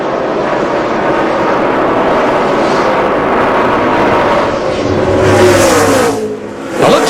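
NASCAR stock cars racing at Texas: a loud, sustained roar of engines passing close by, with a rising whine as the cars sweep past before a brief dip and a new surge.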